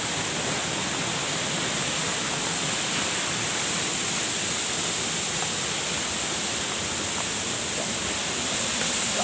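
Inambakan Falls waterfall roaring as a constant dense rush of falling water, loud and steady throughout with no voices.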